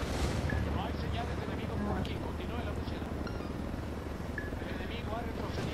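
Helicopter in the video game Ghost Recon Wildlands, a continuous rotor and engine drone at moderate level under game noise, with people talking over it.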